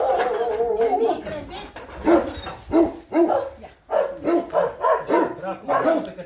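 Dogs at a veterinary clinic bark and yip in a rapid, uneven series of close, loud outbursts, with some whimpering mixed in and a voice speaking over them.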